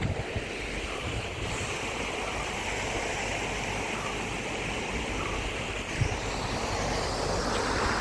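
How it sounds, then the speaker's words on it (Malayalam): Waterfall at Marar Kettu, Vettilapara near Peechi, a steady broadband rush of falling water, continuous and fairly loud throughout without speech. "And there is another waterfalls over there."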